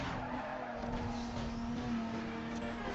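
A race car in Need for Speed Most Wanted holds a steady engine whine while its tires screech and skid through a street race, sustained and loud without pause.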